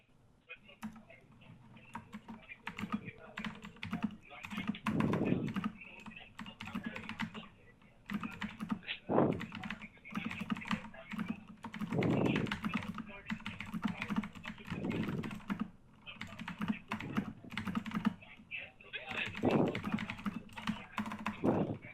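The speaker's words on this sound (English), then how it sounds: "Sorry for my typing." Rapid clicking of keys on a computer keyboard, typed in uneven bursts and pauses over a low background hum, close and fairly quiet.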